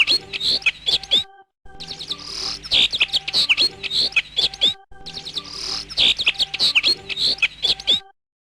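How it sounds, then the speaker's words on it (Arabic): A sparrow chirps up close in quick bright bursts of sharp tweets, the repeated phrases broken by brief pauses. "عصفور."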